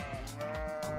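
A sheep bleating sound effect, a single loud wavering bleat filling the short moment, close and clear with no talk.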